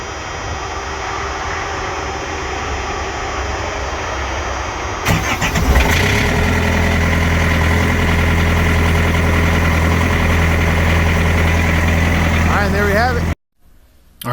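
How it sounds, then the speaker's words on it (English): A diesel engine on a truck's refrigeration unit cranks and catches, then idles loudly and evenly for several seconds before cutting off abruptly. "Diesel engine starting up."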